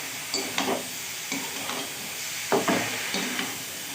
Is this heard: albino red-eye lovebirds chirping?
no